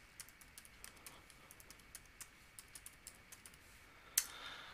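Fingers tap out a website address on a computer keyboard, a steady run of light, quick keystrokes at moderate distance, ending in one sharper, louder key press near the end.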